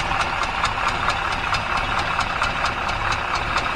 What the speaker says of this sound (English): The engine is actually from an RME